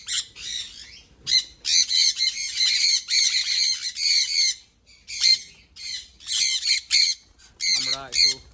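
Two sun conure parrots give harsh, shrill squawks in loud repeated bursts, close by and almost continuous, with brief pauses between volleys.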